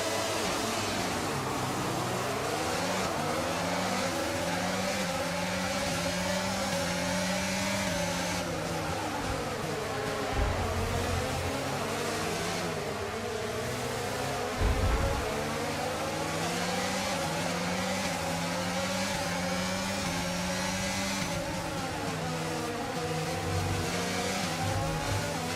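Formula 1 race cars in the F1 22 video game launch off the grid at the start of the Canadian Grand Prix, a continuous field of high-pitched engines rising and falling in pitch as they accelerate together.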